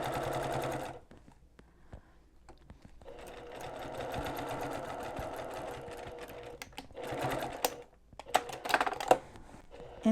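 A sewing machine stitching a fabric pocket onto an advent calendar runs in close, steady bursts, pausing briefly between runs of rapid mechanical chatter, with some handling clicks near the end.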